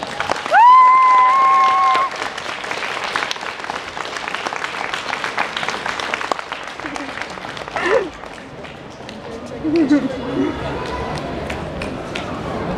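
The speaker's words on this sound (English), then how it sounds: "give a good, great, big, good, great applaud for Jed." A crowd claps and cheers, with a few whoops and voices mixed into the steady applause.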